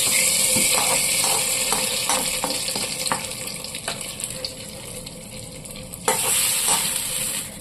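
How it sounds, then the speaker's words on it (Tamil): A spoon stirs ghee-fried cashews into sambar rice in a pot, giving a steady wet scraping and sloshing with a faint sizzle underneath and irregular clinks against the vessel, close and continuous with no voices. "நெய்யில் வறுத்த முந்திரி பருப்பை சாம்பார் சாதத்தில் நல்லா கலந்துருவோம்"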